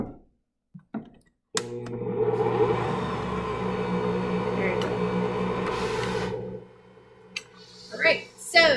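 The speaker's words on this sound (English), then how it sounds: "so that is the Ankarsrum Mixer. It really is a phenomenal machine" An Ankarsrum stand mixer runs with a steady, moderately loud motor whir and hum for about five seconds before shutting off. Brief handling knocks come before it starts, and a voice follows after it stops.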